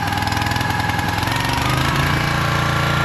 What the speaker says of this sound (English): It's running good. The engine sounds good.